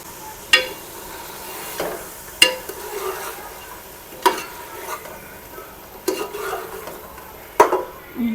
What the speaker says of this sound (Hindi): अब इसमें मैं डालने लगी हूँ अदरक लहसुन का पेस्ट